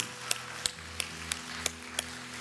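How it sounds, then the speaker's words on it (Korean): A Korean church congregation claps in unison during a 2022 year-end special dawn prayer service, giving six evenly spaced, sharp claps that sound faint and distant in a quiet room. "우리 하나님께 영광의 박수 올려드립시다"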